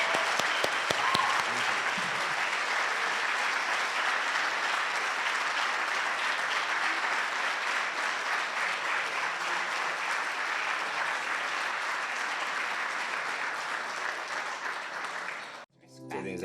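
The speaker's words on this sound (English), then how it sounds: "Please join me in a round of applause" An audience at a live medical fundraiser gives a sustained round of applause, dense clapping that holds steady for about fifteen seconds before fading and cutting off.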